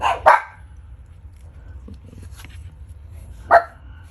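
Household dogs barking indoors in a home workshop: two sharp single barks, one near the start and one near the end, with faint rustling between them over a low steady hum.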